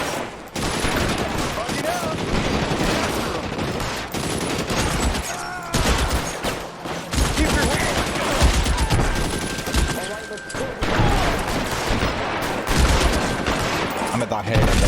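Dense, loud bursts of video-game gunfire from LA Noire, volleys and rapid shots overlapping in a near-continuous fusillade, with someone talking over parts of it.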